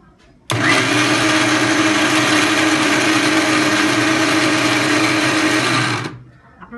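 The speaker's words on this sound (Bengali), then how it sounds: "আমি আদাটি ব্লেন্ড করার জন্য এর মধ্যে সামান্য পরিমাণ পানি দিয়ে দিচ্ছি" A Vision electric blender whirs ginger with a little water: a loud, close, steady motor roar starts abruptly, holds evenly for about five and a half seconds, then cuts off and winds down.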